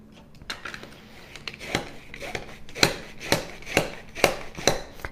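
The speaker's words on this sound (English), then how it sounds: "once I scrape the back of it, how we're getting all this beautiful, fresh, grated ginger" Fresh ginger is scraped against a grater, giving a series of close, rhythmic rasping strokes that grow more regular toward the end, with no talking.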